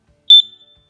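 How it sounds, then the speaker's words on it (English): A single short, high chirp from a Kidde hardwired carbon monoxide detector signalling a low battery, sharp and clear against silence, then fading quickly. "Our carbon monoxide sensor is beeping every 15 seconds"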